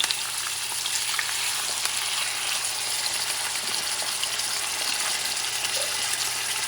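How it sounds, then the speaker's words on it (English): Onions, pepper and corn with vinegar juices hit a hot pan alongside beef cube steaks, producing a continuous, even, close sizzle that holds steady for several seconds with no voices over it. "you add the onions with the pepper, corn, the juices of the vinegar"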